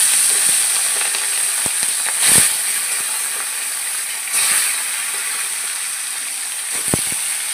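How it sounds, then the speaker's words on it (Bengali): Fish frying in hot oil in a wok gives a loud, steady close-up hiss of sizzling, with a few louder spatters and faint clicks. "মাছগুলো ভেজে নেব।"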